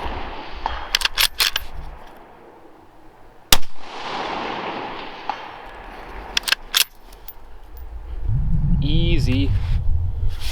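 Sharp, loud cracks from a Savage Axis II Precision .223 bolt action rifle, with a few isolated shots and some metallic clicks between them, then someone talking near the end.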